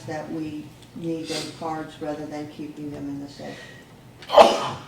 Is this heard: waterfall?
no